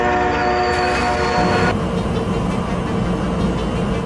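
A loud train horn blares, then cuts into a dense, roaring crash and grinding rumble as a Wabash Heritage locomotive hits and drags a large truck, close and continuous.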